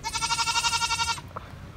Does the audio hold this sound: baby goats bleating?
yes